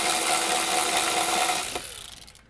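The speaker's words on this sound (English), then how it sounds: "So we're going to take these 7mm bolts off." A power tool whirs steadily, then winds down into a stuttering ratchet as 7mm bolts come off the plastic access panel of a Chevy Cavalier with a GM Ecotec 2.2L engine, close and loud with no talk.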